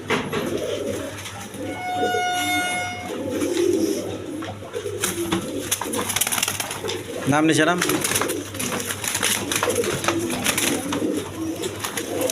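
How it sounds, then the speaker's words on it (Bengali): Large, full-coloured pigeons for sale coo in low, throaty bursts close by while someone talks over them and other birds chirp in the background. "একদম বিগ সাইজের দেখার মতো কবুতর"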